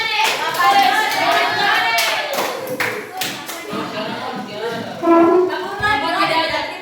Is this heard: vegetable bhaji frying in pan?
no